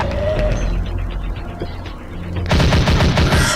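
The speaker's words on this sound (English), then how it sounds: "I really don't like how the recoil on the submachine gun just really slows you down" Submachine gun fire in the video game Zombie Age 2, a sudden rapid burst of loud automatic shots after a stretch of quieter game noise.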